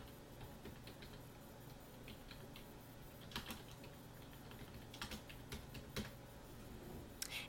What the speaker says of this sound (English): So we're going to go ahead and type a message.